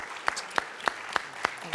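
Applause at a town hall meeting on dismantling racism, honoring a woman named Wendy: a handful of slow, evenly spaced claps, fairly faint against the room's background.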